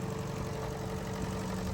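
A 1952 Willys M38a1 military jeep engine idles steadily at a hot desert mine site, a continuous low rumble with an even pulsing beat and no voices.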